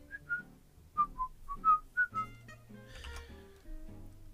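A person whistles a tune from Monty Python's Life of Brian, clear, close and alone: a string of short bright notes followed by a few longer held notes.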